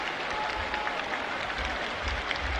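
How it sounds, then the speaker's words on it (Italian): A large crowd in St. Peter's Square applauds as the central loggia opens for the 1963 papal election announcement of Paul VI, a steady, distant wash of clapping on an old recording. "ecco l'applauso della folla saluta l'apertura della loggia centrale"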